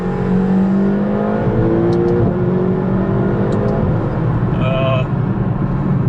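A McLaren GT supercar drives and accelerates, its engine note rising steadily and loudly from inside the cabin, with someone talking over it.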